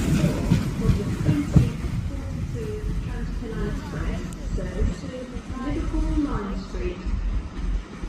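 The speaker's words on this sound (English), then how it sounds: "I think this one's our train coming in" An Azuma intercity train rolls into Doncaster station with a steady low rumble and clattering wheels, while people talk nearby on the platform.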